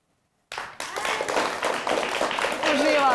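A studio audience on a Croatian Sunday sports talk show claps together, steady dense applause that starts abruptly and holds loud and close for about two and a half seconds with no talking over it.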